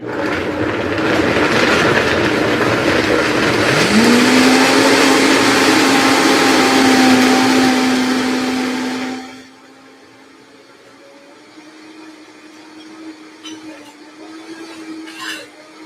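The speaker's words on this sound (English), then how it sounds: "Blender is laboring a little bit" Blender laboring as it mixes a thick raw sweet potato pie filling, a loud close motor whine that strains and shifts pitch for about nine seconds, then cuts off to a low hum and faint clatter.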